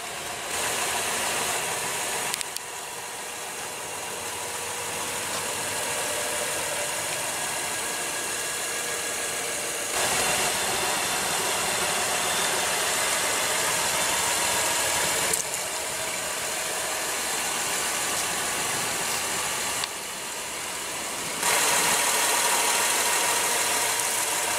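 A 2015 Acura RDX's 3.5 liter V6 idles steadily with a smooth, even hum and faint mechanical ticking, heard close from the open engine bay with no talking.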